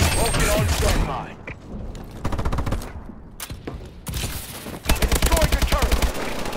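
Rapid bursts of heavy automatic gunfire and mechanical clatter from a Vulcan killstreak in Call of Duty: Advanced Warfare, loud and dense, broken by short gaps before a final sustained rattling barrage.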